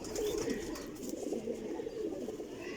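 Pigeons coo softly nearby in a steady low murmur, a quiet bird chorus with no talking.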